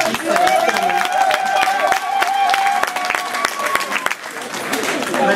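An audience applauding at a Congolese event honouring a performer, steady dense clapping that fills the whole stretch, with a voice speaking over it.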